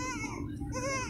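A young goat kid at a Sindhi goat livestock market gives a single short, wavering bleat, faint against a murmur of background noise.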